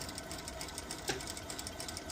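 A sewing machine stitches a seam on a bucket hat, running as a steady, rapid mechanical chatter at moderate volume, with a faint click in the middle.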